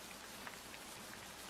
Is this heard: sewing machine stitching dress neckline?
no